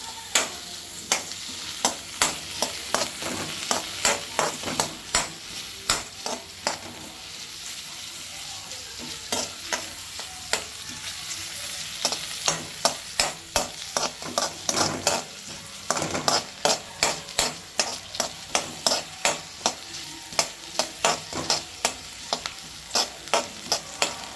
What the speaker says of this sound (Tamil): இப்போ இதை நம்ம நல்லா டீப் ஃப்ரை பண்ணிக்கணும் கைஸ்.